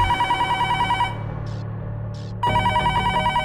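An electronic telephone ringtone sounds loudly in two bursts with a pause between them, over a low background drone, in a tense household scene.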